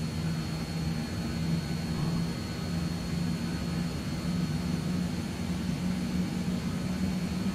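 Airliner jet engines in Microsoft Flight Simulator 2020 accelerating after takeoff with flaps retracting, a steady loud whine and roar holding evenly throughout with no pauses.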